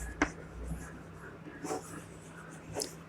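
A marker or chalk scratches across a classroom board in a few short, faint strokes spaced out over quiet room hiss.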